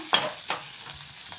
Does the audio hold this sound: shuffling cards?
no